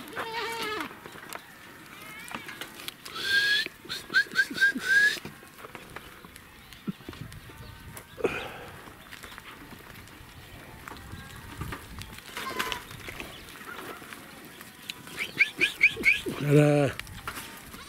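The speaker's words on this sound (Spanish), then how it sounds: "Aquí vemos su ganado, las cabras." Goats on a rural farm in San Cruz Vista Hermosa bleat in several short, scattered bursts, some near and some farther off, while people talk at intervals in between.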